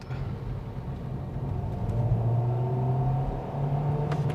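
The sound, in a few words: Hyundai Avante engine revving and accelerating, accelerator floored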